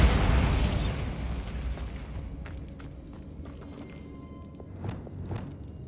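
Bombarda spell blast in Hogwarts Legacy, a loud booming explosion at the start that rumbles and decays over a few seconds, followed by scattered clatters and light debris hits.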